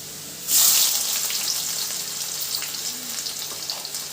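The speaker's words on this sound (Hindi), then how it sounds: "तेल गरम हो गया, इसमें मैंने जीरा और लहसुन डाल दिया है। अब मैं इसमें डालूंगी प्याज।" Chopped onion drops into hot oil already holding cumin and garlic, setting off a sudden loud sizzle that settles into a steady, close frying hiss with no voices.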